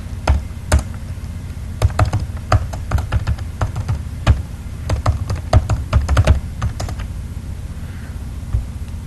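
Someone types on a computer keyboard, sharp irregular clicks in quick clusters and short pauses, close and clear over a low hum, with no speech.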